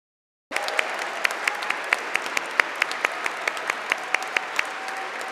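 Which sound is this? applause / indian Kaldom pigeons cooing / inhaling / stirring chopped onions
applause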